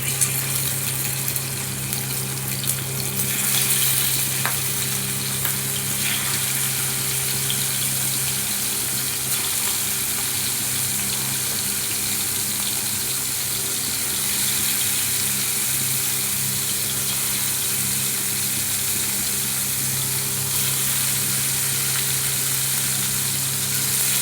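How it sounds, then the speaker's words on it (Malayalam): Dried shark pieces fry in hot oil with a continuous, even sizzle and crackle that stays steady and close the whole time, with no voices. "അപ്പോൾ ഇത് നമുക്ക് വറുത്തെടുക്കാം"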